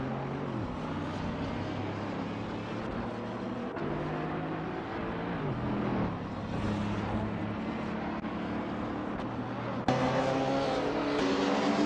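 Several V10-powered supercars race around the Seattle circuit in a video game, engines wailing continuously as pitch rises and falls through gear changes, loud and close with overlapping engine notes.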